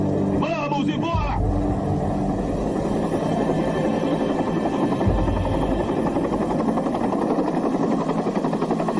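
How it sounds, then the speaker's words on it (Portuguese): A military helicopter flies nearby, its rotor and engine drone loud and constant beneath urgent shouting voices during a war-film evacuation. "Tire o helicóptero."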